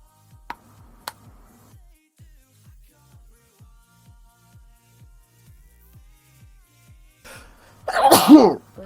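A single loud, close sneeze bursts out near the end, preceded by soft, regular ticking and a couple of sharp clicks in otherwise quiet surroundings.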